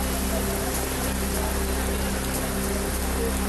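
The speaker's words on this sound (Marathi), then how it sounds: "शिवडीतही मुसळधार पावसाची हजेरी" Heavy monsoon rain pours down in Sewri, Mumbai, on flooded streets: a dense, continuous, loud hiss of rainfall with no breaks.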